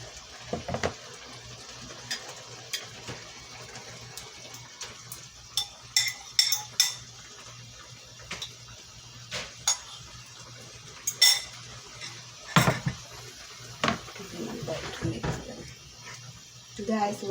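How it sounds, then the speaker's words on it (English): Metal spoon clinks and scrapes against a cooking pot as eggs are stirred into Kenyan egg ugali, irregular taps and stirring strokes close by over a low steady background, with a voice talking at times. "I'm gonna go right ahead and add my eggs."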